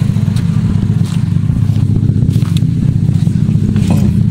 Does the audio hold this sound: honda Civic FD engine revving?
yes